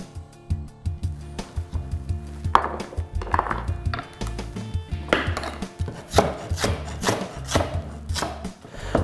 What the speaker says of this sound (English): I'm just coarsely chopping the sweet potato.